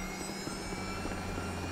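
Helicopter in the video game GTA V during NoPixel roleplay, a steady rotor and engine drone held at constant loudness throughout, with no talking over it.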